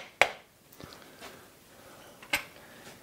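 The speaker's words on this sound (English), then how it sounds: "just give it a little tap with the wooden end of your hammer" Two sharp taps with the wooden end of a hammer on a part of a Watersnake bow-mount electric trolling motor, crisp close knocks about two seconds apart in a quiet workspace, with a few fainter clicks between.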